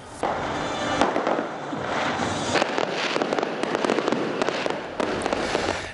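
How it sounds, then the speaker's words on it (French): Grand fireworks closing a ceremony in Algeria: a dense, continuous barrage of crackling bursts and sharp pops, loud and sustained throughout with repeated louder explosions. "la cérémonie s'est clôturée par de grandioses feux d'artifice"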